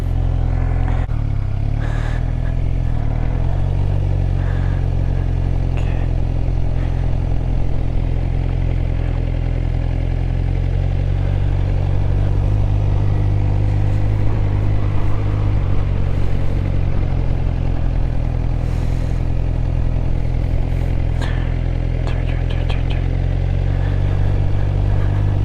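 A sport bike engine runs continuously at low speed during full-lock turn practice, a loud steady idle-level drone with small throttle blips and occasional clatter, close to the microphone with no talking.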